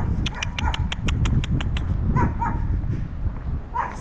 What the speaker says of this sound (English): Is this dog still barking?